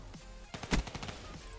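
Annihilator pistol gunfire in a Call of Duty match, a quick cluster of close, punchy shots with a heavier blast in the middle, heard over game background noise, no talking.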